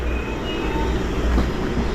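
A train arrives at Bletchley station on the West Coast Main Line, a steady dense rumble of wheels and carriage noise with a faint high squeal, heard from close by and without talk.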